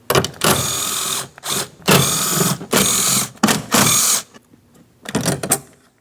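A ratchet with a 10mm socket loosens the door panel mounting nuts on a 2003-2006 Cadillac CTS rear door, heard as several loud bursts of rapid clicking separated by short pauses, close up with no talk.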